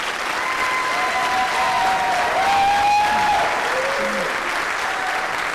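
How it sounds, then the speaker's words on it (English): Steady, dense applause from a large audience at a 2014 high school graduation ceremony, sustained and loud throughout with crowd noise mixed in. "Please give a round of applause to this special group of students."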